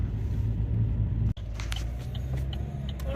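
Steady low road rumble inside a car driving along Highway 20 in Oklahoma, constant and close, broken by one brief click, with no talk.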